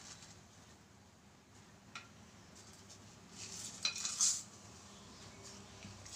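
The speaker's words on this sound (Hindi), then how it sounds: "अब हम इसमें खड़े मसाले डाल देंगे।" Whole spices dropped into hot ghee in a pan while making shahi pulao: a faint, steady background bed, then a brief cluster of light clinks and crackles near the end, without talking.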